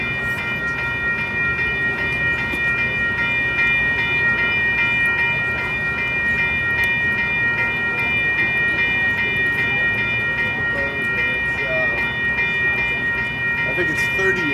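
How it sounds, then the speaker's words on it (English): A Metra commuter train rolls through Elmhurst station in a steady, loud, sustained rumble with tonal wheel or horn-like hums throughout, and people talk over it. "Do you know what train that is?"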